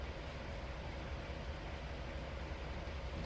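A train in the Trainz 2022 simulator, Tidewater route, rolls off once the train brake is released, giving a steady, loud broadband rumble and hiss that holds evenly throughout with no talking.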